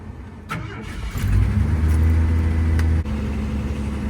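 A 1985 Ford F-150 pickup engine cranks briefly and catches, then settles into a loud, steady low rumble close by, with a short dip near the end.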